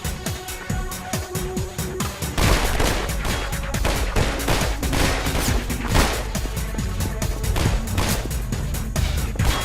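Dense bursts of bullets and gunfire from the video game Half-Life 2, with rapid overlapping shots and cracks that thicken into a sustained, loud barrage after a sparser opening.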